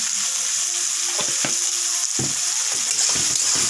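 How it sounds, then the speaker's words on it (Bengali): Boiled ingredients sizzling lightly in hot oil with cumin, salt and turmeric, for a prawn dish, a continuous close hiss with a few scraping stirs partway through. "একটু হালকা ভাজা ভাজা করবো"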